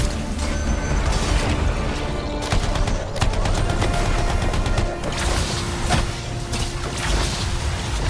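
Gunfire in the video game Anthem rattles continuously as a dense, loud stream of rapid shots with mechanical clatter layered over steady game noise.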